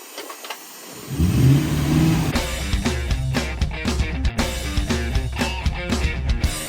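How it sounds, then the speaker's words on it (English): A V8-swapped Volvo 240 wagon sleeper engine starts and revs hard for a burnout, loud and close, with repeated throttle blips and a sustained rumbling roar. "we see if the Volvo can do a burnout"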